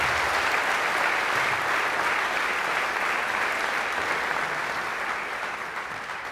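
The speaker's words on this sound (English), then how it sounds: "one more round of applause for these 4 people" Audience applause for four people at a symphonic band concert's season finale, a steady wash of many hands clapping that gradually tapers off toward the end.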